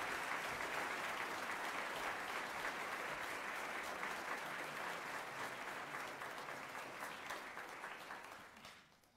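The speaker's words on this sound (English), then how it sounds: "Let us give him a round of applause." A hall of fame awards ceremony audience gives a round of applause, a sustained roar of many hands clapping that holds steady and then fades out at the end.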